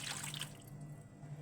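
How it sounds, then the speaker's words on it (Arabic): Warm water splashes and trickles briefly into a bowl for bread dough, a short pour that quickly tapers off to a quiet hum. "هنا بقى هنحط كوباية مية دافية"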